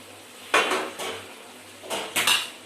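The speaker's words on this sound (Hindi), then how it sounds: "एक बारी हिला लेती हूँ कहीं मेरी सब्ज़ी ना जल जाए" A utensil stirs a potato vegetable curry in a metal pan at home, making a few separate bursts of clanking and scraping against the pan, close and fairly quiet, with no talking.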